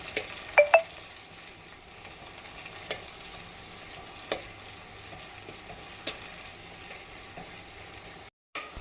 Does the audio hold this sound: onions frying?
yes